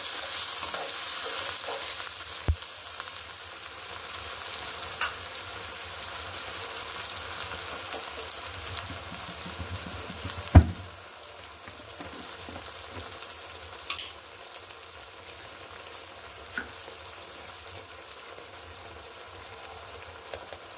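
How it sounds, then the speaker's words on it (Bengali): Ginger garlic paste sautés in a pan with a continuous close sizzle. Scraping stirs recur throughout, with a few sharper knocks of the utensil against the pan. "এখানে 1 চামচ মিলিয়ে দিয়ে দিলাম। ভালোভাবে কষিয়ে নেব।"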